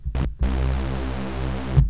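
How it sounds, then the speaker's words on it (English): Thick, buzzing synth Reese bass note with a wide, detuned unison saw character, throbbing slowly as it sustains, loud and alone after a short stutter. "we're going to make a Reese bass"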